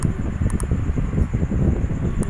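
Steady wind blowing through a Minecraft Java Edition survival world, a continuous low rushing noise that fills the whole stretch without pause.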